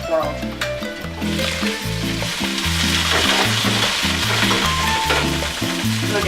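A pork chop sears in a hot pan with a steady, close sizzle of frying fat, running continuously under a loud backdrop of rhythmic music.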